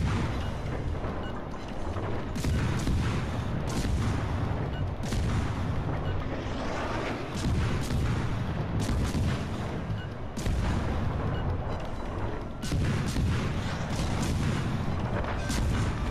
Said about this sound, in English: Let's turn broadside. We can bring all our guns to bear on him.